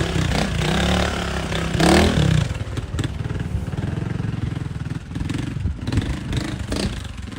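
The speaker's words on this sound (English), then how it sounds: "Mark Franklin on his Beta 4-stroke taking a shot at section 2 here." A Beta 4-stroke trials motorcycle rides a section, its engine loud and close with a rev surge followed by a steady low, chugging throb as it picks its way over the course.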